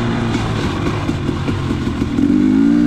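A dirt bike engine drones loud and close while riding on a snowy mountain peak in cold weather, its steady motor note rising as the rider accelerates near the end.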